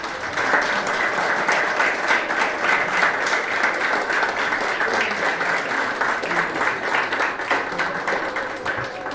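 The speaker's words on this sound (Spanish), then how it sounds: "Denle un aplauso al Señor" Applause from a wedding congregation at a church ceremony, steady dense clapping filling the whole stretch at a loud, even level, with faint voices mixed in beneath it.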